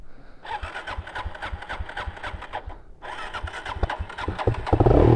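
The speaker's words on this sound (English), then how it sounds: "I just hammered the throttle and it started up again." A supermoto motorcycle engine cranks and catches, running rough and choppy, cuts briefly, then fires again and revs harder toward the end, loud and near.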